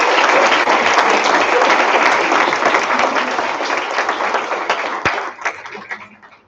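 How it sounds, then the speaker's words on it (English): Loud crowd applause for graduating students at a college graduation ceremony, dense clapping that holds steady and then fades out toward the end. "An applause for all of these students."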